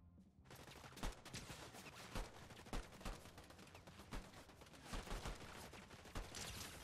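Enemies shoot in a video game firefight, a steady stream of sharp gunshots and bursts cracking at irregular intervals over a constant battle din, fairly close and loud, with no talk over it.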